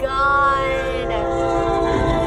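At a level crossing in the San Fernando Valley, California, a passing train sounds a loud, sustained horn for the full short stretch, with rumbling underneath.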